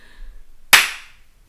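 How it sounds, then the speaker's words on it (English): A single sharp hand clap rings out close and loud after near silence, then decays quickly, with no voices over it. "that was a clap for your story there. Thank you, just a single clap"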